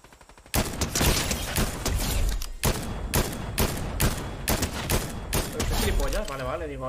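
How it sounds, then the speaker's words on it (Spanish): Rapid bursts of Fortnite gunfire crackle almost without pause, loud and close, with dense repeated shots broken by a brief gap, while a voice talks faintly underneath. "estos disparos que estoy haciendo ahora mismo"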